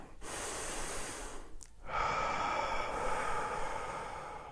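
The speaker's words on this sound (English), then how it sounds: "Let's take a deep breath." A slow, deep breath taken during a guided relaxation on a live morning show: a long, soft airy inhale, a brief pause, then a steady drawn-out exhale, close and alone without talk.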